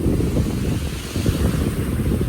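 Sea surf washing steadily onto a sandy beach, a continuous loud roar of breaking waves mixed with wind buffeting the microphone, with no voices.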